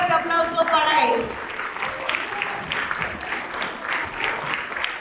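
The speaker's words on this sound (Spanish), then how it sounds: "Bienvenido, Gabriel, un fuerte aplauso para él." An audience at a digital advertising conference applauds a speaker taking the stage, the clapping swelling and then holding steady for several seconds as a voice speaks over the start.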